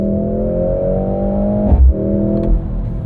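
A 2-liter turbocharged Mercedes-AMG GLC 63 S E Performance engine drones steadily, then gives a short burst of pops and burbles midway, heard close and loud from inside the car, with no talking.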